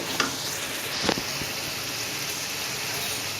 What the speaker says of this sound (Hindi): इसको हम अच्छी तरह भूनेंगे तकरीबन 5 से 10 मिनट के लिए